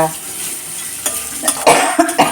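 Soft background sizzle swells into several loud bursts of crackling as greens hit hot oil tempering for mango dal, with stirring noises in between.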